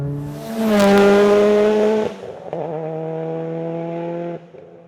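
A tuned 900 hp Mitsubishi Evo revs hard under load, engine note climbing loud and close, then drops sharply at a gear shift near 7,000 RPM before pulling again steadily in the next gear, with no talk.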